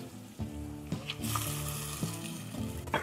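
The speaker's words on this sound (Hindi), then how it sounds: "2 टमाटर हमने चॉप किए हुए डाले।" Two chopped tomatoes dropped into a hot pan of garlic-ginger paste for lauki chana dal: a sudden burst of loud sizzling that settles into a steady crackle, with a few light utensil taps.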